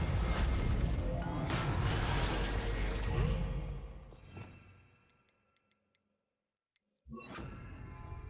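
Reparo spell cast in Hogwarts Legacy: a loud, dense swirl of magical crashing and shimmering that fades out, followed by a few faint ticking chimes in near silence, then another loud burst at the end.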